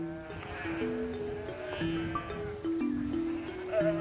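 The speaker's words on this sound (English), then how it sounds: "You see the sheep and there's nothing else here" Sheep bleat around an old countryside fortress, several wavering calls overlapping from near and mid distance over a quiet outdoor background.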